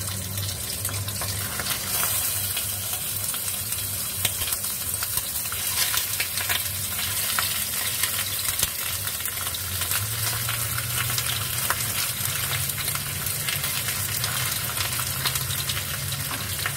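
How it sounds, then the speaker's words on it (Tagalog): Fish frying in a pan, a loud continuous hiss of spitting oil under a steady low hum, with no talking. "habang nagpiprito tayo ng isda"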